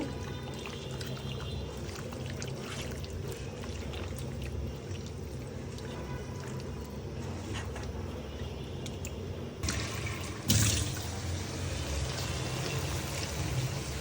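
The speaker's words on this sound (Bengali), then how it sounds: "কিছু পানি দিয়ে দিলাম" Water poured into a cooking pot of seasoned meat curry, a steady low splashing pour running continuously with a brief louder burst near the end, no talking.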